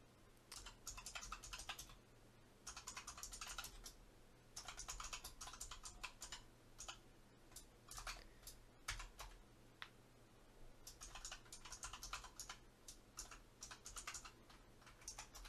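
Typing code on a computer keyboard: steady bursts of rapid key clicks separated by brief pauses, close and fairly quiet, with no talking.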